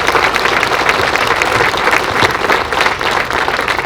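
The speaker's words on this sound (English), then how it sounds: "let's give them all a big round of applause" Loud, sustained applause from the audience at a Great Falls municipal band concert, a dense steady clatter of many hands clapping without pause.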